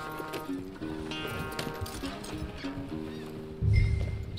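In the Red Dead Redemption II video game, a horse's hooves clop softly while it is ridden slowly, with occasional snorts. A heavier low thump arrives near the end, and sustained tonal background music runs throughout.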